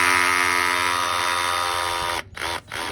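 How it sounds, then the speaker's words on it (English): A hammer drill bores into concrete while assembling an outdoor gazebo, whining loud and steady close by, then stopping twice in quick succession near the end. "you want to make sure you're using a hammer drill"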